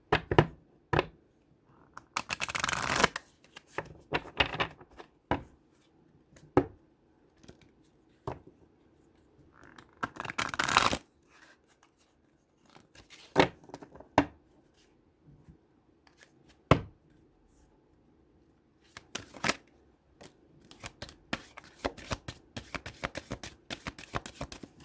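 Large tarot-style cards being shuffled and pulled for a reading, in irregular bursts of riffling and snapping separated by quiet pauses, close and fairly crisp.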